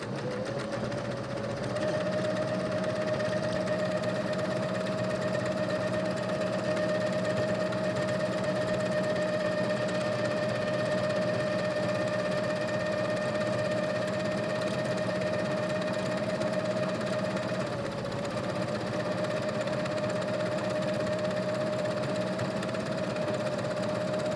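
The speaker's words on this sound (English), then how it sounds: "I'm just going to start right here on an edge and zigzag all the way around my turtle" A sewing machine zigzag-stitches around the edge of a terry cloth turtle mop, giving a steady, close mechanical whir with a faint rhythmic knock that runs unbroken throughout, with no talking.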